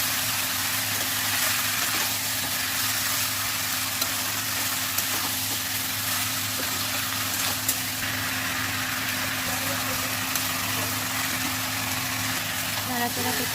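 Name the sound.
chicken frying and stirred on high heat in oil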